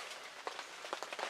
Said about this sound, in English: Rain and the wind are starting to let up a little bit.